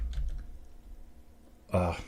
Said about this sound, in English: I'm typing in the dark